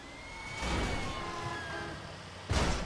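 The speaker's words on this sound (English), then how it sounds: "The siren gets really annoying after a while because it starts to sound like a little girl screaming." A police car siren in the video game GTA V wails with a rising and falling tone over engine rumble. It sounds moderately close, with a sudden louder burst near the end.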